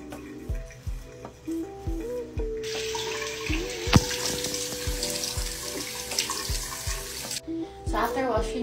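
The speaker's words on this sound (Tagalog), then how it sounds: "first step is you have to wash your face with the Buddha Armatin soap" Running tap water splashing into a sink while a face is washed with soap, a steady close stream with intermittent splashes and rubbing, alongside faint background tones.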